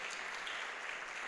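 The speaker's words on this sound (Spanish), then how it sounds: "Da un aplauso al Señor." A congregation at a religious gathering breaks into applause, a dense, even patter of many hands clapping at moderate volume throughout.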